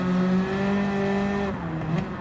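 Front-wheel-drive race car in Gran Turismo 7, its engine holding a steady high note with harmonics, then easing and shifting pitch near the end, loud and continuous with no voices.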